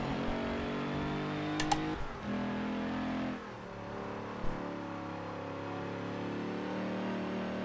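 A muscle car's engine roars steadily through a Forza endurance race against unbeatable bots, its deep rumble constant with brief revving shifts and faint clicks on top, no talking.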